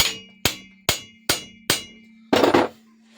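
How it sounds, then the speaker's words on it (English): A hammer strikes a bicycle crank bolt five times in an even rhythm, each hit a sharp metallic clang with a ringing tail, then a heavier, longer final blow, all close up. "Hammer."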